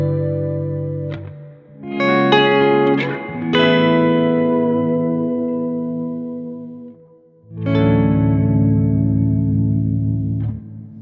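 Guitar run through a Chroma Console effects pedal set to a tuned interval, with sustained chords and single notes shimmering under a pitch-shifted harmony, blooming in two long swells with a gap between.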